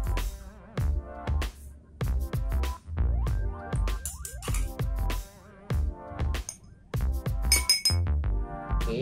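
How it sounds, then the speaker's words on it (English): A metal spoon clinks against a drinking glass while two tablespoons of coffee are added, giving a rapid series of bright, loud clinks and taps close by, with no talking. "put 2 tablespoon of the coffee into the glass"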